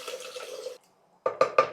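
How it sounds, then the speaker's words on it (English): Water poured into a pot of rajma seasoned with turmeric, chili, cumin, coriander and salt, heard as a close, short splashing pour, then a pause and three quick clinks of the pot. "Now we'll add some water in it."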